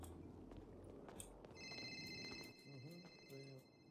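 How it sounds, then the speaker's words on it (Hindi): Electronic telephone ring inside a GTA RP game on the NoPixel server, a steady repeating tone that starts partway through, with someone talking over it and game noise underneath. "उठा लो भाई फोन उठा लो"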